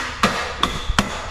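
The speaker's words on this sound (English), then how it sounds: "you just chisel a bit of metal off it" Three sharp metallic hammer strikes on a chisel shaving metal off a motorcycle brake spacer on a Panhead chopper, spaced unevenly about a third of a second apart, close and ringing.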